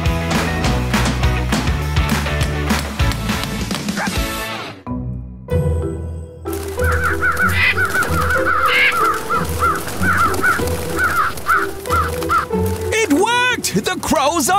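Cartoon crows caw repeatedly in a children's animated strawberry-patch scene, harsh calls over music and effects in the second half, with characters talking.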